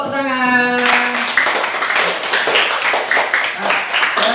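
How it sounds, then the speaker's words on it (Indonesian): Classroom applause during a teaching practice lesson: a group of students clapping steadily together after a sung or spoken cue at the start, dense and continuous, with some voices mixed in. "Tepuk tangan."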